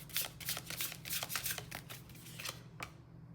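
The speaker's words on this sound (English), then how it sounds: "I don't know why all these cards are flying around." Tarot cards are shuffled close up in a rapid series of crisp riffling flicks, a quiet papery patter that stops near the end.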